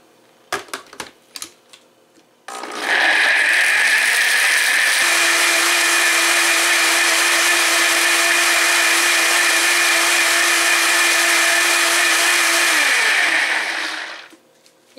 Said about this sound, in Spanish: Vamos a ponerlo en la licuadora